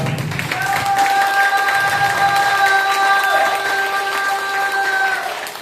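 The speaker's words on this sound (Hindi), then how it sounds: "तो फिर तालियां कौन बजाएगा?" An audience claps and cheers in a sustained burst while steady musical tones ring over the crowd noise for several seconds.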